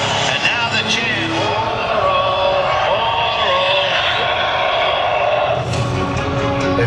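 A crowd of 56,000 at Dodger Stadium chants together during a pregame ceremony, producing a loud, continuous, close roar of massed voices with a rhythmic swell that lasts throughout.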